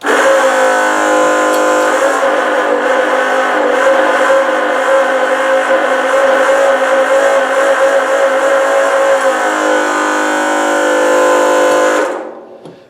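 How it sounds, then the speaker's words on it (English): A Vevor 12-volt fuel transfer pump runs steadily with a loud, close, even electric motor whine and buzz that holds for about twelve seconds and then cuts off abruptly. "a few final thoughts regarding the 12-volt fuel transfer pump from Vevor"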